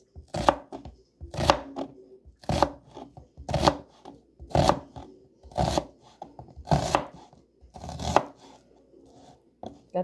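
A knife chops onions on a board in nine or ten firm, evenly spaced strokes, each a sharp thud with a short crunch, close and clear with no talking.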